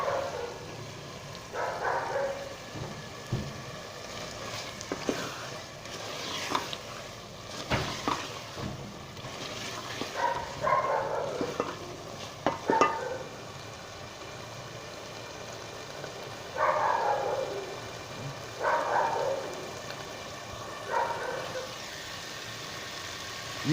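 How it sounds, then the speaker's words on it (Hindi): Potato and eggplant curry frying over medium-high heat, with a soft steady sizzle and intermittent bursts of scraping as the pan is stirred, fairly quiet with no talk. "अभी मज़ीद को 2 से 3 मिनट हम तेज़ आंच पे इसकी भुनाई करेंगे।"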